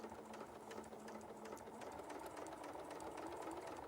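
A sewing machine runs steadily, stitching a quarter-inch seam with a fast continuous mechanical whir and rhythmic needle chatter, moderately close and uninterrupted, with no talking.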